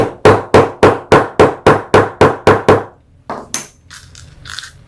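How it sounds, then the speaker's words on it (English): Nine sharp, evenly spaced taps of a small hammer striking a metal snap fastener on a sewn wallet, followed by a few lighter clicks and handling noises. "And I just use a little hammer."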